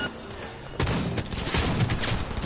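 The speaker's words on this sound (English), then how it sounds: "This shotgun's kind of weak." A shotgun fires in the video game Cyberpunk 2077, a sudden loud blast that opens into a dense, roaring wash of gunfire noise which holds for the rest of the moment.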